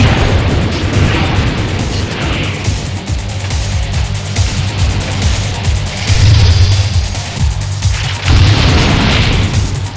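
Explosions and electric blasts in the Spider-Man 2 video game, a loud, continuous barrage of booms, pops and crackling bursts with rolling low rumble throughout, no talk.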